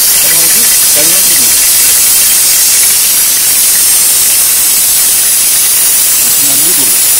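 Curry leaves hit hot oil in a pan for a beef fry, giving a loud, steady hissing sizzle that fills the clip while a voice talks briefly underneath.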